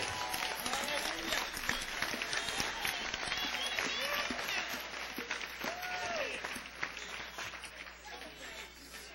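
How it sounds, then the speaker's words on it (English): Church congregation clapping hands during a morning service, a lively roomful of claps with voices and calls mixed in throughout, easing slightly toward the end. "Give God a hand clap in here this morning."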